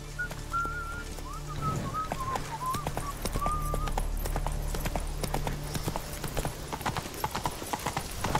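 Roach, a horse in The Witcher 3, gallops with rapid, loud hoofbeats in a continuous clip-clop rhythm, while a rider's melodic whistling plays over the top early on.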